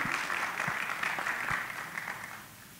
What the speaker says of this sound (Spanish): Le brindamos un fuerte aplauso por este gran ponencia que tuvo.